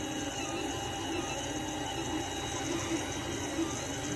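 An Ender 3 Pro 3D printer runs steadily at close range, its stepper motors giving a continuous whirring hum with faint rhythmic ticks and no talking.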